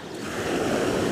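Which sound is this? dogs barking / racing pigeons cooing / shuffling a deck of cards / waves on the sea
waves on the sea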